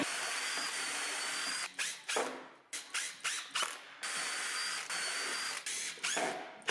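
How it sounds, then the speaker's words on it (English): A power drill bores pilot holes and drives screws into wood for a garage tool holder, with long steady whirring runs broken by a series of short ratcheting bursts, close and fairly loud, no talking. "I'll put a few pilot holes in there and put some screws through wood."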